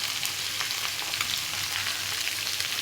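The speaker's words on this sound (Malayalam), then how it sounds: "നമുക്കിതിനൊന്ന് വഴറ്റിയെടുക്കണം" A chicken payasam mixture seasoned with salt and turmeric sautés in a pan with a steady, close hiss and crackle of sizzling, and faint stirring under it, with no voices.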